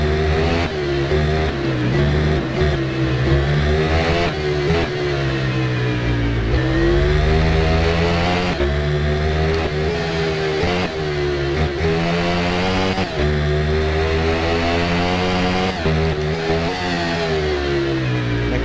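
A middleweight two-cylinder naked motorcycle racing at Almería in the video game RIDE, its engine revving hard and continuously with repeated rises and drops in pitch as gears change, loud and close.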